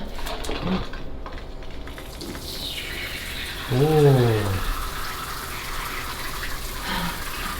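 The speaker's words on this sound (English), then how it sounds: "You can take a nice shower outside." An outdoor shower runs steadily with a broad rushing hiss, a brief louder gush and squeal in the middle, and voices talking over it.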